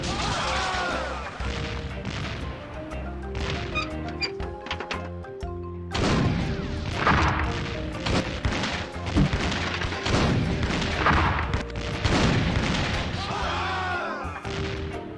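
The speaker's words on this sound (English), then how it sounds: "Who is manning that cannon? Aim further out, you idiot!" Repeated heavy booms of cannon fire with crashing impacts in The Curse of Monkey Island, mixed with game music and occasional voices talking.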